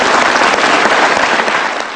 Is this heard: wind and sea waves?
no